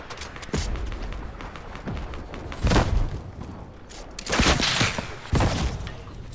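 Fortnite video game gunfire, heard as a few loud bursts of shots and impacts over a steady game background, with the heaviest volleys coming near the middle and toward the end.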